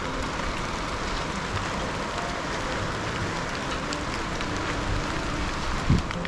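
Hailstones come down with a heavy unseasonal rain, making a dense, steady roar of patter and drumming on surfaces, with one louder, sharper impact close by near the end.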